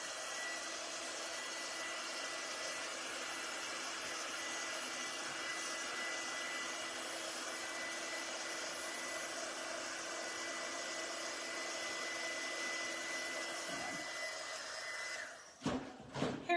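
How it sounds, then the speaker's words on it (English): A heat gun blows steadily for a long stretch as it dries the painted hat of a wooden 3D snowman sign, a constant whooshing hum that cuts off near the end. "I'm going to blow dry his hat real quick with my heat gun."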